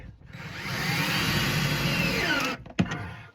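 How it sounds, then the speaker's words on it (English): A power drill whines steadily for about two and a half seconds while boring pilot holes in the interior panels of a 1983 VW T3 Vanagon, then stops abruptly, followed by a sharp knock and brief clatter. "I'm pilot hole first with a drill bit, slightly smaller than the screw, and then screw this screw."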